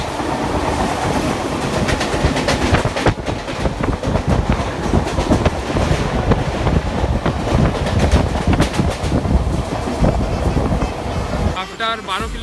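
A Howrah–Haldia fast local commuter train rolls along at speed, a loud, steady rumble with rhythmic clickety-clack of wheels on rail joints throughout, heard from inside the carriage.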